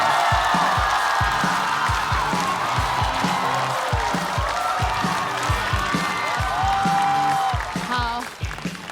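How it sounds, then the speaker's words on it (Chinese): A live stand-up comedy audience breaks into loud, sustained applause and cheering to welcome a comedian to the stage, dense clapping with whoops that tapers off near the end. "掌声有请嘻哈。"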